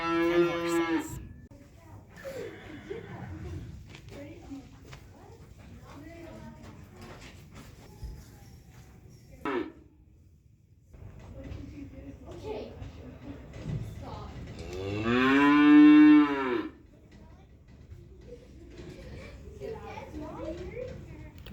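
A bull calf bellows loudly at a county fair, kept apart from goats and horses; a couple of drawn-out moos rise over background chatter and barn noise, with people talking nearby.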